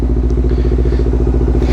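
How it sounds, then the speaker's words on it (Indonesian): A Honda CBR 250 RR idles steadily while warming up before leaving a showroom, its engine close and loud with an even, rapid pulsing throb and no talk over it. "Nah ini motor lagi dipanasin dulu, baru gue keluarin dari showroom ya."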